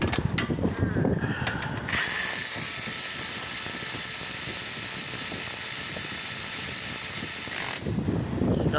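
A ratchet clicks in a fast, steady run for several seconds while snugging the front brake caliper bracket bolts on a BMW E90-series 3 Series, loud and close, with a little handling noise before and after.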